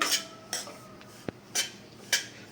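Bombay rava (semolina) roasting in a pan for rava laddu, stirred with a metal spoon that scrapes the pan in regular sharp strokes about every half second, close and distinct with a light clink between.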